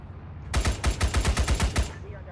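A short, loud burst of about a dozen rapid machine-gun shots in the World War II game Arma 3 Iron Front, evenly spaced and close, cutting off abruptly after under two seconds.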